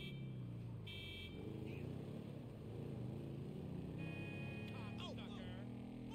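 A motorcycle engine in the video game GTA 5 drones at a low, steady pitch and rises slightly as it revs, faint under game effects, with a few short electronic tones and chirps on top.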